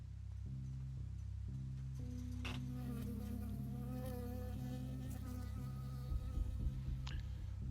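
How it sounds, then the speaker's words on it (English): Bee buzzing in the video game Firewatch, a steady insect drone over low pulsing ambient game tones, with a few faint clicks and a brief rustle near the end. "Ah, I got stung by a bee."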